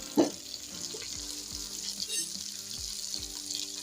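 Mung bean curry vegetables with onion, tomato and spices frying in oil, giving a steady soft sizzle with occasional light scrapes and taps of a utensil, fairly quiet.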